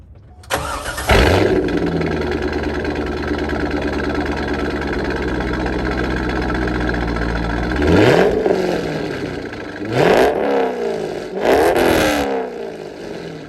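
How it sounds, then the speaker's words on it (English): A 1999 C5 Corvette with a Corsa Extreme exhaust cold-starts: a cranking catch, then a loud deep burbling high idle, followed by three sharp revs that climb and fall back, up close. "now I'll go ahead and do a cold start and show everybody what it sounds like with the Corsa"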